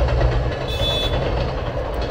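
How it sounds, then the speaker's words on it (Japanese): A freight train on the JR Sanyo Line near Tatsuno rumbles past close by with a loud, steady low roar and rolling wheel noise throughout. "今度は貨物列車。"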